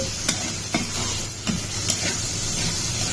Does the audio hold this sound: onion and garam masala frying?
yes